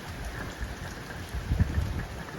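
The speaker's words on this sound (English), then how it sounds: "It's starting to rain pretty heavy in gusts, as well as the wind." Heavy rain from Hurricane Nicole pours steadily in Vero Beach, Florida, swelling in gusts with a low windy rumble; no one speaks.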